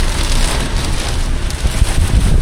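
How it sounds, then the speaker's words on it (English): Steady rain falling outdoors on a farm, a dense, continuous hiss of drops on surfaces that stays loud and even throughout, with no voices. "it's rain. It's raining."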